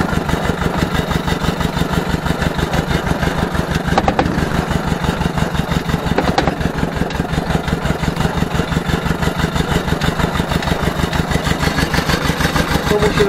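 An Ursus C-325 tractor with a plough runs along a rough rural road, its engine chugging in a steady, rapid rhythmic thump, loud and close throughout, with no voices.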